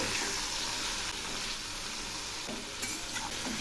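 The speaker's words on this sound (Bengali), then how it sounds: "এখন আমি সবজিগুলো ভালো করে ভেজে নেব।" Potato, eggplant, ridge gourd, pointed gourd and pumpkin stems fry together with salt and turmeric, giving a loud, close, constant sizzle broken by occasional stirring scrapes.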